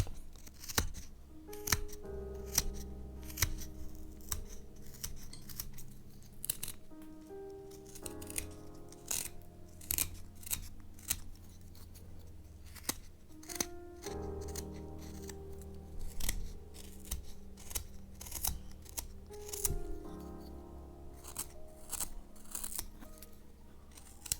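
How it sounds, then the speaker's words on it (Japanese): A round gouge carving wood for a cat mask, giving a long run of close, crisp cutting and scraping strokes in an irregular rhythm with brief pauses and no talk. "この丸刀で区切ってしまいます"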